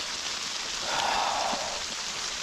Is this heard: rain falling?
yes